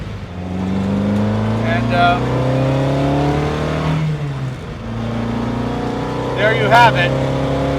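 A small 1960 Lotus Elite sports car engine hums and revs steadily up and down as it drives past, with someone briefly speaking over it.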